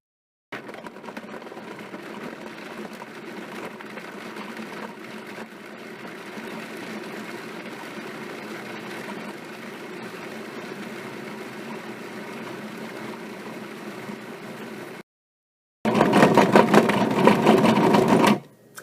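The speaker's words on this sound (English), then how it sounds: "So you'd have to listen to my food processor running the whole time." A food processor blending vegan mocha caramel mixture whirs steadily and loudly for about fifteen seconds, stops briefly, then restarts with a harsher, louder grinding tone.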